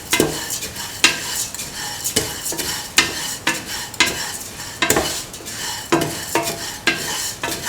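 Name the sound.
vermicelli pasta being stirred and sautéed with shallots in pan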